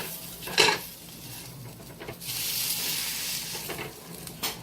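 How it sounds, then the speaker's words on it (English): Chicken pieces fry in olive oil in a pan for chicken parmesan, with a soft sizzle under clinks and scrapes of utensils against the pan, fairly quiet and close. "I already started pan frying the chicken."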